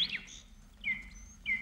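A nightingale gives short, thin whistled phrases in brief bursts, faint and fairly distant over a quiet low background hum.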